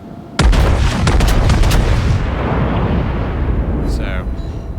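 Battleship New York's turret guns fire in a naval video game, a sudden heavy boom that rolls into a long rumbling decay, loud and close, with a brief electronic chirp near the end.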